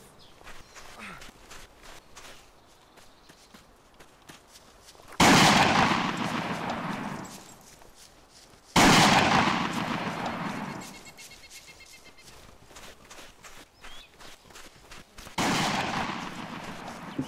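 Three loud, sudden bursts of distant rifle and artillery fire from an enemy in the WWII shooter Iron Front 1944, each a sharp blast trailing into a long echoing decay, separated by quieter stretches of footsteps and movement.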